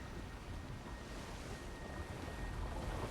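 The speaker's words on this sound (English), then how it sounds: "Water wheel." Steady, continuous rush of water from a turning water wheel in the Elder Scrolls Online video game. The churning wash holds at an even level throughout, with no voices.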